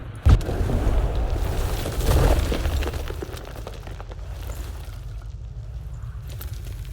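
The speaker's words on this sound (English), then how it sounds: "Stalagmites! Destroy them!" Stalagmites smashed apart in The Witcher 3: Wild Hunt, a sharp initial crack followed by a second heavy crumbling boom and a long rumbling tail of debris, loud and close with no talk.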